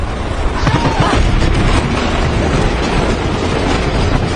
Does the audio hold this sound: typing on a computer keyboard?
no